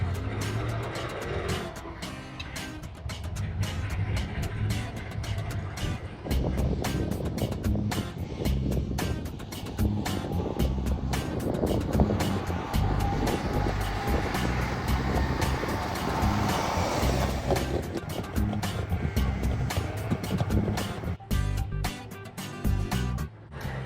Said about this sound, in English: So what's the Wartburg like to drive? Well, as you can tell, it's a little bit noisy